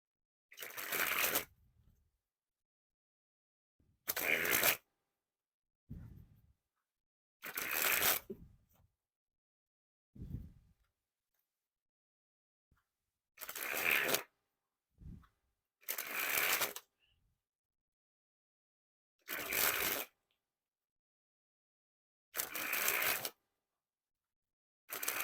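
Yellow King Slayer playing cards by Ellusionist are sprung from hand to hand in eight separate bursts, each a quick rapid-fire flutter of cards lasting about a second, with quiet gaps between.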